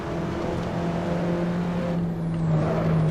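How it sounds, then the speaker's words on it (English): Race car engine in the driving game Assetto Corsa, a steady droning hum that swells slightly near the end as the revs rise, continuous and close with no talking. "Other than the idle, the car doesn't make fantastic sounds."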